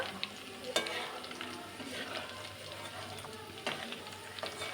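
Dried red chillies and panch phoron fry in oil while a spoon stirs them, giving a soft sizzle with a few sharp scrapes and clinks against the pan.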